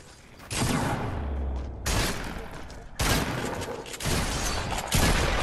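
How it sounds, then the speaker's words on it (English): Loud bursts of Fortnite gunfire in a squad battle royale match, several heavy volleys separated by brief gaps, with tense player voices underneath. "Where did you get shot from?"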